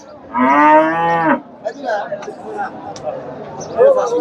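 A Friesian dairy cow at a Bangladeshi cattle market lets out one loud, close, drawn-out moo, followed by scattered background chatter and market noise.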